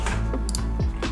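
Computer keyboard keys clatter in a short run of quick presses while a command is entered during setup of a 3-inch sub-250g freestyle quadcopter build, with steady background hum and no speech.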